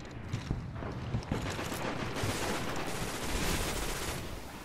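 Rapid bursts of gunfire from a weapon in the shooter game Destiny crackle through a busy battle, overlapping shots forming a dense, continuous rattle with a few sharper cracks early on.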